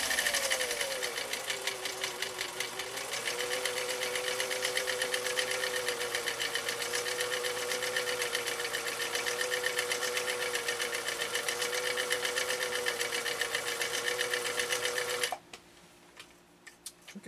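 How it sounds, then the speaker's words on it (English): A 1955 Husqvarna Viking Type 21 sewing machine sews a decorative stitch through fabric, giving a fast, steady mechanical clatter with a rapid regular tick and a motor hum that shifts pitch slightly, close up, then stops abruptly near the end. "you can really hear this machine kind of doing its thing, doing its dance as we go through this material"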